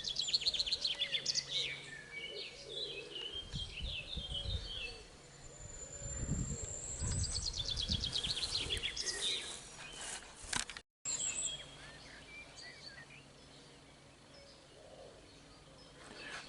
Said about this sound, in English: Very difficult filming things like birds.